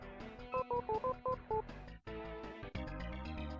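Telephone keypad tones from the SNES game Shadowrun: a quick run of about six beeps dialing a number over looping game music, with no talking.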